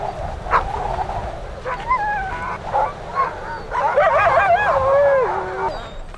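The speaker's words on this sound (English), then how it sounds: "We're just hooking up the dog team." Sled dogs in a team being harnessed in winter near Churchill yip, whine and howl excitedly, overlapping calls rising and falling throughout, with people talking nearby.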